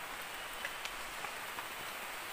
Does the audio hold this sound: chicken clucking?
no